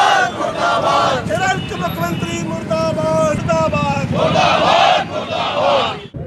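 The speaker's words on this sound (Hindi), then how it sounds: "मालवीय चौक में नारेबाजी करते हुए विरोध प्रदर्शन किया गया" Protest crowd at Malviya Chowk shouting slogans during a demonstration, loud and close, with voices chanting in rhythmic bursts and a surge of shouting near the end.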